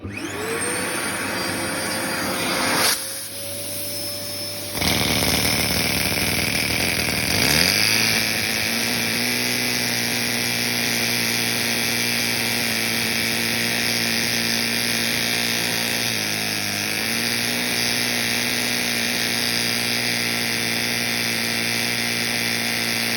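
A Lego inline-four vacuum-powered engine runs with a loud continuous whirring drone, its pitch shifting and dropping briefly a few seconds in before settling into a steady, even hum.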